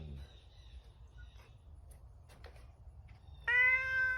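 Cat meowing: after a quiet stretch of faint background sounds, one clear, fairly loud drawn-out meow comes near the end.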